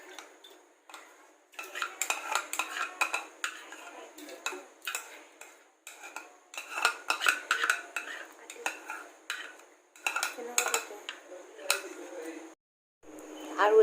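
Soaked rice poured into milk in a pot for payesh, with a run of clinking utensil taps and scraping against the pot, close and irregular, pausing briefly near the end.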